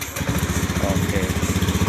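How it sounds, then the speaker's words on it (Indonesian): The electric starter on a Honda Beat FI ESP scooter cranks in a rapid, even, pulsing whir lasting under two seconds, close and fairly loud, and the engine does not catch. "Setelah sudah menyala semuanya, kita cek starter."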